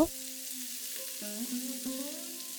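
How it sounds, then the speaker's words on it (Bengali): Quiet, steady sizzling of onions frying in a pan over medium-high flame, with a few soft stirring scrapes over a low hum. "আমি পেঁয়াজগুলোকে খুব ভালো করে ভেজে নেব"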